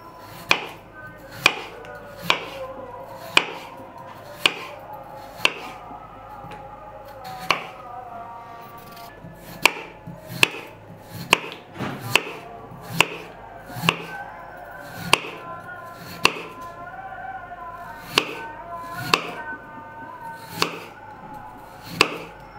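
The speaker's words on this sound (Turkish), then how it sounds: "Onları da ince ince şu şekilde kesiyorum." A knife cuts raw potatoes into thin slices on a cutting board, giving crisp, sharp chops close by at an uneven, unhurried rhythm, about two dozen in all, with no talking.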